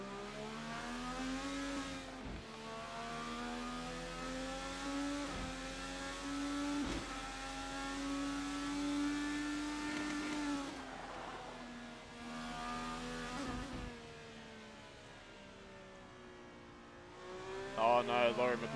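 Indycar race cars in a sim racing game at Barber Motorsport Park drone and rise in pitch as engines rev and shift through gears, sharp gearchange breaks punctuating the whine, with a commentator talking throughout.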